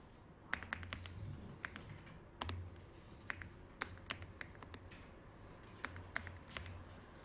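Keystrokes on a computer keyboard while entering text in a PowerPoint exercise: sparse, irregular clicks, some in quick pairs, fairly close and quiet over a faint low hum.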